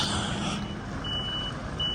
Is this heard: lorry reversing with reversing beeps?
yes